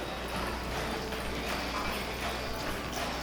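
Horse hooves at a slow western pleasure gait, a soft steady clip-clop on arena footing heard continuously throughout, with no talk.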